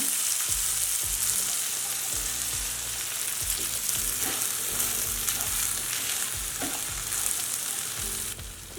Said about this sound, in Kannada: ಬದನೆಕಾಯಿ ಇದಕ್ಕೀಗ ರವೆ ಸೇರಿಸ್ಕೊಳ್ಳೋಣ